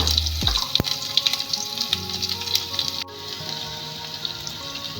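Onion dropped into hot oil for masala dosa filling hisses into a steady, close sizzle right after a brief splash, continuing evenly without talk.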